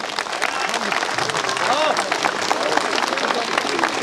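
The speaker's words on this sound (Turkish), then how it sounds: "Teşkilatına hep beraber kuvvetli bir alkış yapıyoruz şöyle." Crowd applauding at a tournament ceremony in Çorum, Türkiye, with Galatasaray supporters present, a steady dense wash of clapping mixed with crowd murmur and chatter.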